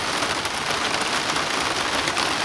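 Heavy rain pours down steadily and loudly onto the ground and nearby surfaces, forming a dense, unbroken hiss with no voices.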